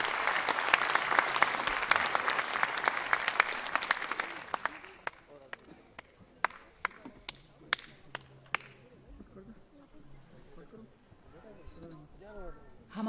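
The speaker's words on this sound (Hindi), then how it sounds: "आप सभी से निवेदन है कि जोरदार तालियों के साथ उनका स्वागत करें" An audience at a Lok Sabha Day celebration bursts into loud, dense applause welcoming guests, which thins after a few seconds into scattered individual claps before fading out.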